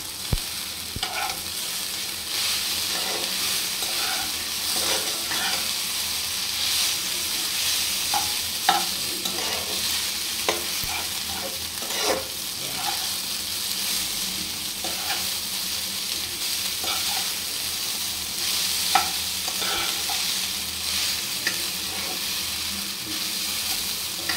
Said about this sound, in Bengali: সয়া সসটা দিয়ে চারদিকে আমি নেড়ে চেড়ে দিলাম